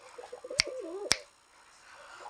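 A male pigeon coos softly, a low wavering warble close by, broken by two sharp clicks before fading to quiet.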